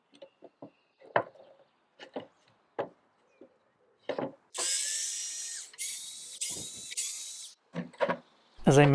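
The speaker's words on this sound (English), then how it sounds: "there were lots of dowels put through the dovetail joints, so I had to drill them out" Power drill boring out wooden dowels set through the dovetail joints of an old bookcase under restoration, several sustained high whining bursts between short knocks and handling clatter, close by.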